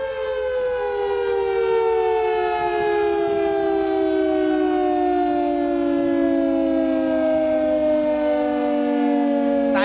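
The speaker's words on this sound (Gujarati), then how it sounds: "પહેલા સાયરન વાગે તો કેવી અવાજ આવે? ધીમેથી ફાસ્ટ જતી હોય અને ફાસ્ટ થી ધીમે થતી હોય." A civil defense siren wails steadily and loudly in a nationwide air-raid warning, its pitch slowly sliding downward across the whole stretch with no break in the tone.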